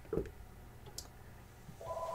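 A telephone in a home craft-class setting gives off a short, steady electronic tone near the end of a quiet moment, after a brief knock; nobody talks.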